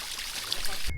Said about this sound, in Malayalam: ഇവിടെയൊക്കെ വെള്ളം താഴോട്ട് ഒഴുകി വരുന്ന ഭാഗമാണ്